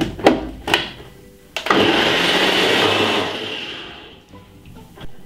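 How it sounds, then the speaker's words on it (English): A Ninja blender whirs through porridge made with coconut milk: a few sharp knocks, then a loud sustained motor drone that slowly eases off before more clatter at the end. "blend it for about 4 to 5 minutes on a good ninja blender"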